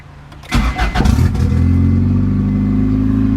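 A boosted Honda Accord with an F23 engine cranks briefly and catches, then settles into a loud, close, steady high idle with a deep rumble.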